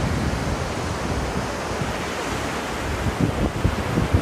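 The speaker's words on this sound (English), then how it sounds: "Waves are coming in" Lake Michigan waves washing onto the sand at Harrington Beach State Park, Wisconsin, a steady broadband surf wash with wind rush, swelling slightly louder toward the end, with no voices.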